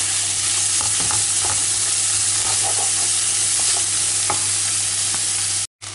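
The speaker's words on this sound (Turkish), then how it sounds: "Kavuruyoruz." Onions with salt frying in oil in a pan for stuffed eggplant, giving a constant loud sizzle with scattered stirring clicks and scrapes up close, no talking, briefly cutting out near the end.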